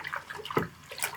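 Hot water with laundry detergent swishes and sloshes in a bucket as it is stirred, one brief close splash standing out in a short burst.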